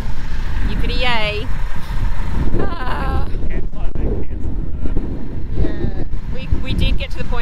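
A broken-down truck idles at the roadside between Cape Le Grand and Lucky Bay, Western Australia, a low steady engine rumble running throughout beneath people talking nearby.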